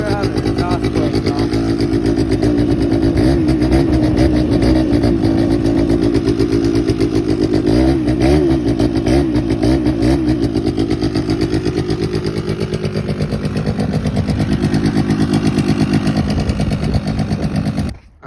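A Yamaha Timberwolf ATV engine runs loud and close, revving steadily to clear water from the exhaust after a wash. The droning note rises and falls slightly before the engine shuts off at the end.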